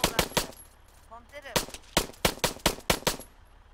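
Pistol gunfire in the video game Arma 3, during a police raid: sharp shots come in irregular bursts and quick successive cracks, loud and close, with a brief muffled voice between them.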